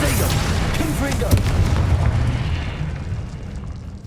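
Confringo fire spells explode in the Hogwarts Legacy video game, with loud booming blasts and crackling bursts rolling one after another, under a voice calling out.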